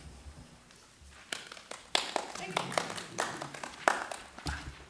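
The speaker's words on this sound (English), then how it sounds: "It's always nice to be greeted with applause." Applause from a seated audience greeting a presenter at a municipal study session, scattered claps building into a fuller ripple that stays moderately loud throughout, with no talking over it.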